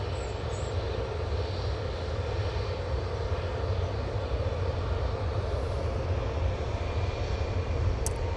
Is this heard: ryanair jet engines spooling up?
yes